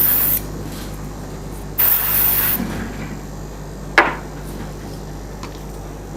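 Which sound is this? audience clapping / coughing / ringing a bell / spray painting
spray painting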